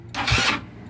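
A GY6 scooter engine cranks in one short, close burst that nearly catches before dying away, with no talk.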